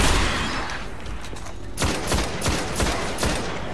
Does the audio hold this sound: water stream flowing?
no